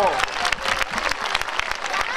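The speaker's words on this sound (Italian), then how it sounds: "Un grande applauso!" Audience applause at a children's theatre festival in Concordia sulla Secchia, Italy, brisk and close with distinct individual claps, while a voice briefly calls out over it.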